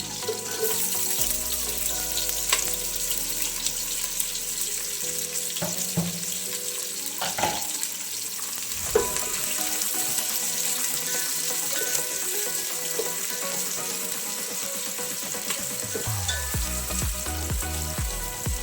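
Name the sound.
chopped onion frying in oil for biryani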